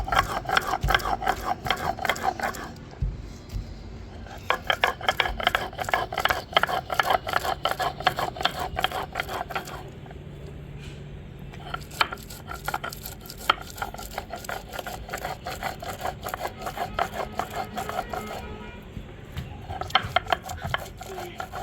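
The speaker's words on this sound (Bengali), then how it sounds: "আমি শিলে এটা এবার বেটে নিচ্ছি।" Raw taro ground on a flat grinding stone (shil), a continuous rhythmic rasping and rubbing as the stone is pushed back and forth, close and fairly loud with a few brief pauses.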